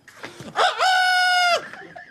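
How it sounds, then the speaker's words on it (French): A rooster crows once, close and loud: a short rising lead-in, then a long sustained, strongly tonal call that drops off at the end. "un coq"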